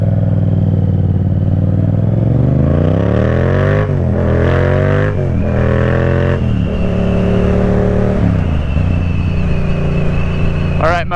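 A Yamaha FZ-07 motorcycle engine drones loud and steady while riding, its pitch climbing and dropping as gears shift several times, with a rider talking over the constant wind-buffeted engine roar.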